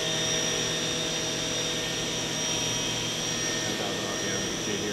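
The spindle of a Hardinge VMC 1500 vertical machining center running near its top speed of about 10,000 RPM gives a steady, loud high whine with broadband whirring, constant throughout, close by and with no talk over it.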